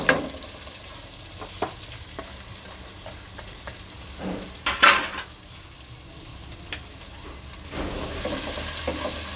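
Chopped onion and cumin seeds frying in a pan, a soft, steady sizzle with occasional stirring scrapes and clinks close by.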